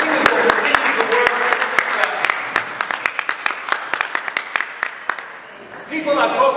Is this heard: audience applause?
yes